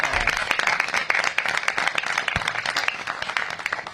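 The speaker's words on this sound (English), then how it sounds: "So let's give Jeremiah a big round of applause" A meeting audience applauds, a fairly close, sustained patter of many hands clapping for the full few seconds, moderately loud, with no speech.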